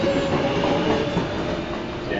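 A Manhattan-bound 2 train on the New York City subway runs with a continuous loud rumble and rattle of cars and wheels on the track, with no one talking.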